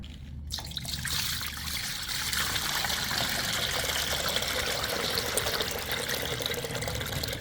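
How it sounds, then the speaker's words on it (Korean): Sugar brine drains off salted pickled radish for radish jangajji, a close, steady liquid trickle and dribble that flows continuously. "물이 엄청 많이 나오네."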